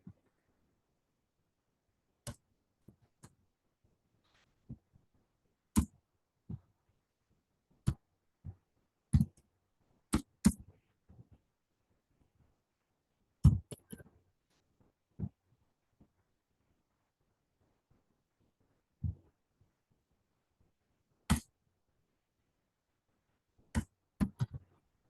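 Sparse, separate clicks of keys on a computer keyboard while someone enters numbers into spreadsheet cells, with irregular single taps and short bursts spread across long quiet gaps and no talking.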